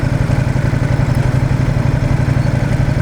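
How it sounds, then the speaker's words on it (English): A 2021 Ducati XDiavel motorcycle engine runs steadily at idle, loud and close, with an even low pulsing throb and faint clatter throughout. "I hear the induction sound on this bike already"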